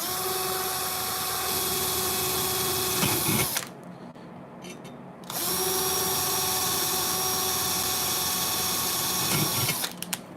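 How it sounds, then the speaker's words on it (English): A power drill pre-drills a series of holes for a Fuzz Imp build, its steady whine running loud and close for about three seconds, stopping briefly, then resuming for several more seconds before cutting off. "So what I'm doing is I'm pre-drilling all this"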